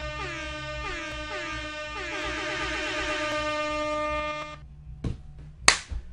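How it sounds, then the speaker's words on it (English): A loud, sustained foghorn sound effect holds steady for about four and a half seconds, then cuts off, followed by a couple of sharp smacks or slaps. "Can we get a foghorn?"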